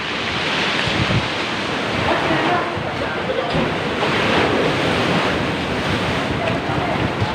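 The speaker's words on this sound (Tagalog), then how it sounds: "So malakas lang talaga alon." Strong ocean surf surging onto a beach by a cave in Mauban, Quezon, a loud steady roar of breaking waves with heavy wind buffeting the microphone throughout.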